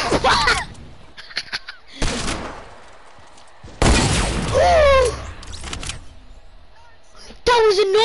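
Game gunfire from a no-scope sniper headshot, heard as a few sharp bursts spaced across the stretch with shouted voices and yelps between them.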